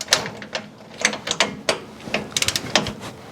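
A small wrench ratchets on the last inner upper bolt of a PSC XD steering gearbox, giving a close run of sharp metallic clicks in uneven bursts.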